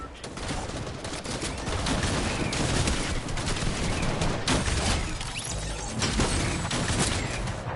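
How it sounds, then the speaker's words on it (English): Primal shotgun blasts in the video game Fortnite, rendered as dense, loud, repeated bursts of gunfire running continuously amid a busy battle soundscape. "Primal shotgun. I hate these things."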